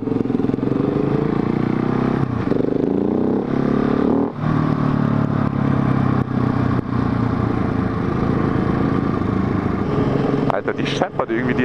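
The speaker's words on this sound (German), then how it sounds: "Die scheppert irgendwie die FZ8." A Yamaha FZ8 motorcycle rattles and roars continuously while riding on Italian roads, a loud dense engine and wind drone with clattering tones throughout, ending in a few sharp knocks.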